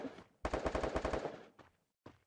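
Automatic UMP submachine gun fire in a first-person shooter game, a tight rapid burst of about a dozen rounds followed by two short separate bursts, fairly close and punchy with no talk over it.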